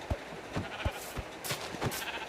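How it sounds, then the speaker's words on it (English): Sheep in the video game Minecraft bleat in a quiet run of short, evenly spaced calls and soft thuds over a low background. "So let's kill some more sheeps."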